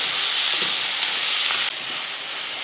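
Tomatoes and onions sauté in a pan for chutney, giving a steady, close sizzling hiss that holds throughout and dips slightly in level partway through, with no talking.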